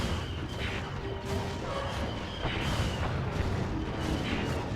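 A particle cannon firing in a video game gives a dense, continuous roar of booming blasts and crashes, loud and sustained throughout.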